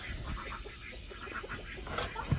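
Ducks on a small backyard homestead with chickens quack faintly at a distance, a few soft calls over quiet outdoor background.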